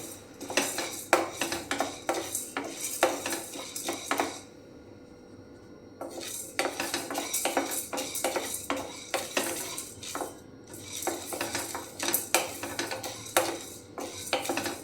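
Dry chana dal is stirred and roasted in a pan, with rapid rattling scrapes of a spatula and grains shuffling against metal, briefly pausing before resuming in busy bursts.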